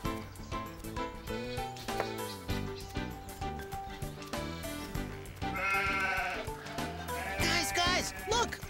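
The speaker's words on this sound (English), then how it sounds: "Guys, look, more goats." Goats bleating repeatedly in quick wavering calls, several voices overlapping close by over a musical background.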